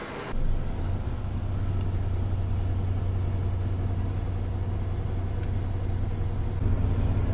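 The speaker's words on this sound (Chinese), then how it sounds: "刚那辆不是，这辆才是到市区的大巴。" City bus at the airport pulling up, a low steady engine rumble that holds at a constant level for several seconds with faint background noise, fairly quiet and moderately near.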